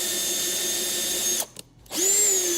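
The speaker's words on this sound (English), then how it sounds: "You don't want to wiggle the drill either which way" Power drill whirring steadily during a guitar repair on a saddle slot, close and loud, briefly stopping then spinning up again.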